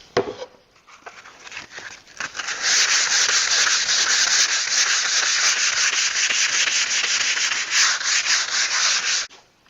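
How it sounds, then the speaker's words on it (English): Steady hand sanding of a small wooden mini footlocker, a continuous close, even scratching rasp that builds after a few light strokes and runs without pause until it stops abruptly near the end. "I'm going to go ahead and do some hand sanding."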